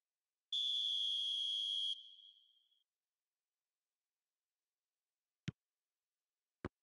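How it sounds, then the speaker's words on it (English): A referee's whistle opens a Lazio vs Bayern Munich Champions League match in PES 2021 on PC, one long shrill blast about a second and a half that fades out, followed later by two sharp clicks. "There's the whistle, and here we go"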